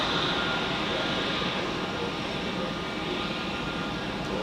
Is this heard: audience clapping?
no